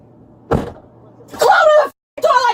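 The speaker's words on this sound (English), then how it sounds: "Close the door like that again" A door slams shut with a single sharp bang, followed by loud voices talking over the room.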